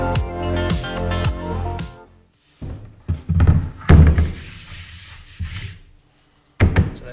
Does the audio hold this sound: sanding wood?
yes